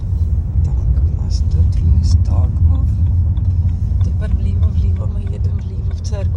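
A car drives along a village road, its engine a steady low rumble throughout while people chat inside the cabin.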